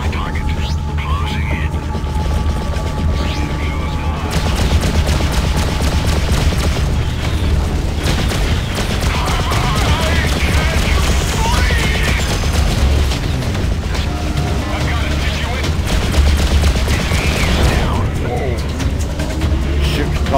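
Laser and missile weapon fire in Freelancer space combat, with continuous dense booms and bursts layered over a steady engine drone throughout, loud and busy, with no clear gaps.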